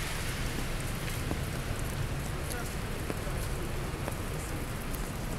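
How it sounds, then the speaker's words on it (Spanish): Steady splashing of rainwater pouring from a spout in a wall onto a street amid rain, a continuous broadband rush with a few faint drips standing out. "Aquí este chorrito de agua bien particular, de agua lluvia."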